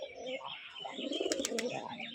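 A male white pigeon coos in a soft, repeated rumbling call, close by, with faint chirps in the background and no speech.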